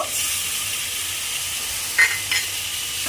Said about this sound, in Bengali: আদা বাটাটা দিয়ে আবারও আমি একটু কষিয়ে নেব।